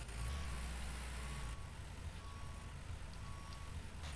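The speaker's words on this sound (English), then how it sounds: "It has a backup beeper." Backup beeper on a Linder Geotrack tractor in the Farmers Dynasty video game: evenly spaced electronic beeps over a low engine idle, fairly faint.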